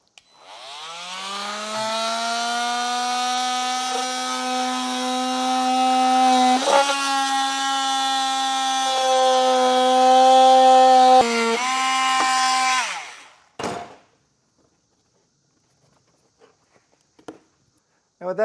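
A power tool cuts away material for clearance around a Roadmaster Direct-Connect base plate on a 2023 Jeep Gladiator, running loud and steady for about thirteen seconds with a shifting whine, then stopping, followed by brief clunks and handling noises.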